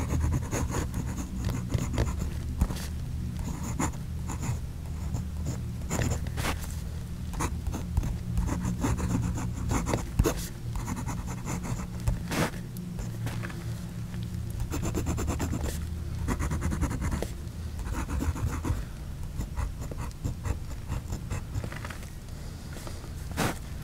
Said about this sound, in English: Let's see how that fine Jinhao nib works with that cinnamon brown ink.